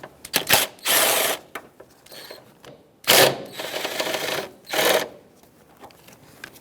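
A power tool, likely a ratchet or impact driver, spinning off 10mm mounting nuts from a power steering line bracket on a 2012-2018 Nissan Altima 2.5L, in several loud whirring bursts separated by short pauses and light clicks.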